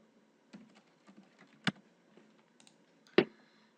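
Keystrokes on a computer keyboard, a few sparse soft taps with two sharper louder clicks, close and alone with no talking.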